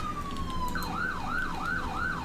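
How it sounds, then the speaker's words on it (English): An ambulance siren sounds in the video game GTA V with a paramedic mod. A single falling tone switches into a rapid, repeating rising-and-falling wail, loud and close over a low engine rumble. "So we'll get the sirens on."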